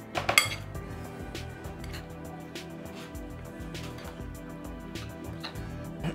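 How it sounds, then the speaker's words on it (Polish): Yogurt sauce with lemon juice, zaatar, sumac, salt and pepper stirred in a dish: a steady run of light spoon clinks and scrapes against the bowl, with a brief louder clatter near the start. "Całość wymieszam."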